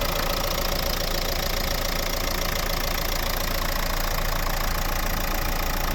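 A 2014 Renault Megane III facelift with a 1.5 dCi K9K diesel engine, 110 hp, idling nearby, a steady loud rattling drone with a fine knocking texture throughout, no voices.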